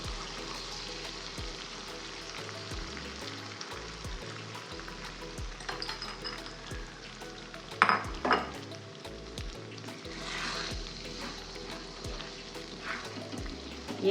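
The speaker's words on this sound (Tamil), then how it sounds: "நம்ம வந்து இதில் பீட் பண்ணி வச்சுருக்க எக்கை ஆட் பண்ண போகிறோம்." Beaten egg frying with cooked rice in a hot pan makes a steady sizzle, with occasional spatula scrapes and knocks against the pan, close up and alone.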